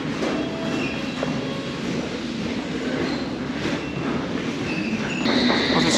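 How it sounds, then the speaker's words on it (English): A London Underground Metropolitan Line train departs a westbound platform, a continuous rolling rumble of wheels with faint squeals, rising slightly as it pulls away, no talk. "there's a train just departing, but it's no good to me. That is a Metropolitan Line train."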